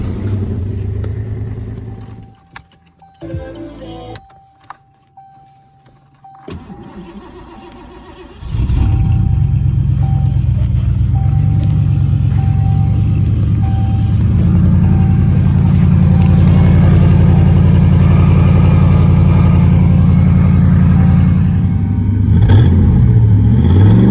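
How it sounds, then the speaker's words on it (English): A Toyota Tundra pickup engine cold-starts after a few rough cranking attempts, then settles into a loud, close, steady idle with occasional revving. "Toyota Tundra."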